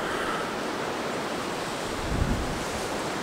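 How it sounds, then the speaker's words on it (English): Steady wind roaring and buffeting a microphone outdoors on a morning during Hurricane Ophelia, a continuous broadband rush with a brief stronger gust near the end, no voices. "And it's starting to get windy."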